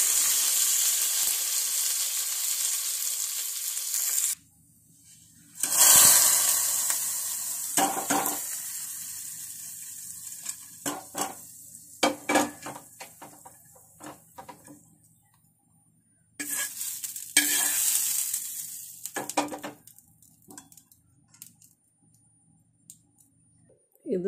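Curry leaves, mustard seeds and fenugreek crackle and sizzle in hot oil, with loud bursts of frying hiss broken by a few quiet gaps and occasional clicks of a utensil.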